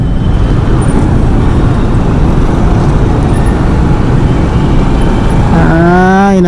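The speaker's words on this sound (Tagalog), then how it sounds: "dito na naman yung traffic." Dense roadway traffic roars steadily around a Bajaj CT100 motorcycle on a commute in the Philippines, a loud continuous wash of engines with a horn-like tone rising near the end.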